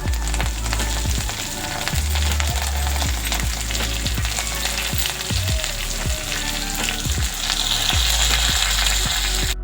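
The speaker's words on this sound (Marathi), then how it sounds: "मिरची आणि लसूण भाजलेला आहे त्याच्यामध्ये आता सर्व आपण भाजी हरभऱ्याची भाजी टाकून घेऊया" Chickpea greens are tipped into a pan of frying roasted chilli and garlic, giving a steady, loud sizzle with a rhythm of soft knocks and stirring clatter throughout.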